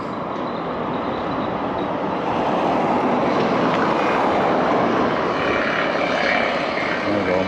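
A drone flies over the construction site of Everton F.C.'s new stadium at Bramley-Moore Dock, producing a loud, continuous engine-like whir that holds steady throughout with no talking.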